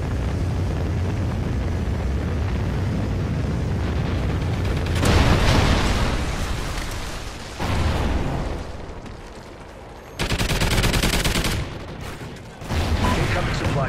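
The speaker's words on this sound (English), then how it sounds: "Friendly Trinity rocket inbound." A Trinity rocket strike and gunfire in Call of Duty Ghosts on the Freight map in Safeguard mode: loud, dense booms and bursts of fire in several heavy surges over a continuous roar of battle.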